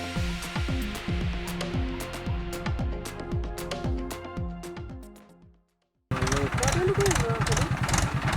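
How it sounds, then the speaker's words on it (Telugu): A tractor engine rumbles and labours while being driven into dense hilly forest, its throbbing drone rising and falling under a speaking voice, cutting out briefly before returning loud and rough. "మా ట్రాక్టర్ డ్రైవర్ అయితే చాలా కష్టపడుతూ ఈ ట్రాక్టర్ని అయితే లోపలికి తీసుకురావడం జరుగుతుంది"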